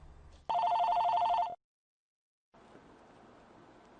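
An old-style telephone bell rings once in a steady electric trill lasting about a second, then cuts to silence before faint room noise returns.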